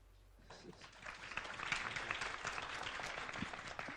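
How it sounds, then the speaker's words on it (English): Audience applause at a conference session on WHOIS privacy and the public interest, welcoming speaker Joyce Chen: a quiet, steady patter of many hands that starts abruptly after a brief hush and holds evenly to the end. "So let's welcome the first speaker, Joyce Chen, with applause."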